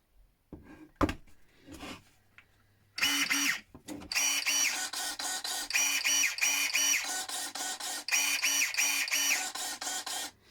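After a few handling knocks, a Swansoft electric hair clipper switches on and buzzes steadily, its pitch briefly wavering as it runs in short stretches.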